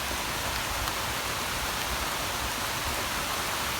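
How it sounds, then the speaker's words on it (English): Steady, dense rain drums on a garden shed roof, an even broadband hiss that stays loud and unbroken throughout, with no voices. "So I'll get out of the rain and just sort of hang out under my roof here at the shed."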